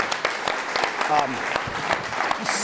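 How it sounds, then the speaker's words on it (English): An audience claps at a talk on economics of the 2016 election, with sharp, separate claps from a small crowd mixed with a voice speaking over them. "So let's give a little applause to both of them"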